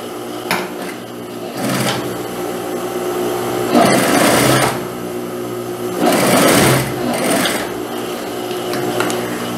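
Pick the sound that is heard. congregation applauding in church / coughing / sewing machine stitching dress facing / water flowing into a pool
sewing machine stitching dress facing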